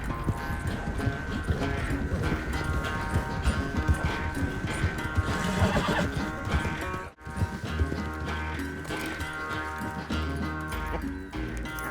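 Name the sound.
horse whinnying and hooves in the video game Red Dead Redemption 2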